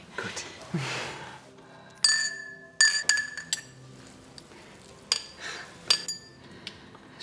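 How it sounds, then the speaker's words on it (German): Champagne glasses clink together in a toast, several sharp ringing chimes spaced irregularly over a quiet room, with soft handling sounds between them. "Komm, lass uns darauf anstoßen."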